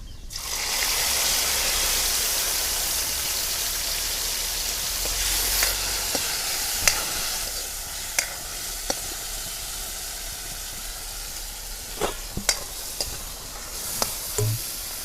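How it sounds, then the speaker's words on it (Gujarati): Chopped tomatoes hit a hot oiled pan for Kathiawadi dhaba-style sev tameta shaak, setting off a loud, steady sizzle and hiss that eases slightly, broken by scattered clicks and stirring taps. "હવે ટમેટા નાખી દઈશું."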